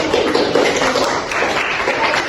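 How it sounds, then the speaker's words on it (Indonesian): Classroom applause for a student's conclusion in a school chemistry lesson, a steady dense patter of clapping hands lasting a couple of seconds without pause, fairly loud and close. "Beri tepuk tangan kepada"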